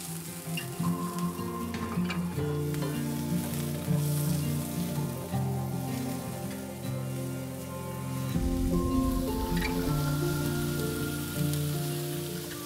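Chopped onions and garlic sauté in two tablespoons of hot chili oil for cauliflower fried rice, a steady close sizzle with occasional stirring beneath continuous background music.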